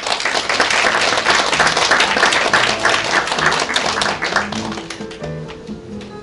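A large audience applauds steadily to welcome a teacher, the head of the English department, at a high school admissions information session. The loud, dense clapping runs throughout and gradually thins and fades toward the end.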